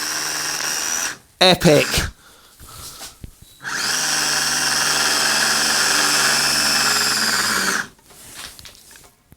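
A Scalextric Mini slot car motor revs up close in a shrill, high-pitched electric whine that holds for about four seconds and then cuts out, after short bursts and a spoken remark.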